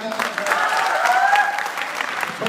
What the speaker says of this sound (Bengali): আজিজ সাহেবের জন্য হাততালি দেন।